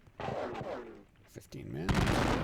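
Musket volleys crackle in a Napoleonic battle video game, with bursts of massed gunfire and a sharp final volley, heard under a voice giving commentary.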